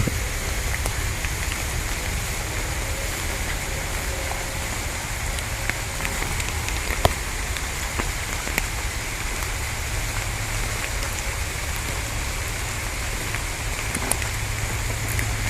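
Steady rain falls outdoors, a dense, even hiss that carries on unbroken throughout, with occasional louder drops tapping nearby and no talking.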